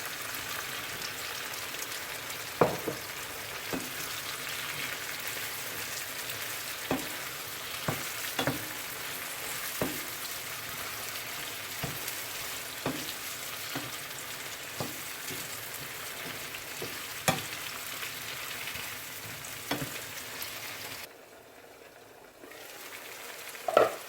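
Okra frying in a pan for a Jamaican-style stir-fried saltfish, with a constant close sizzle broken by sharp spatula taps and scrapes every few seconds, briefly quieter near the end.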